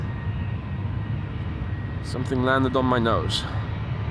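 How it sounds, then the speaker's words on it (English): A KLM Boeing 737-800 departing Amsterdam Schiphol makes a steady, moderate engine rumble, with someone speaking briefly over it partway through. "This is KLM flight 1251 to bloody Helsinki, Finland. 737-800."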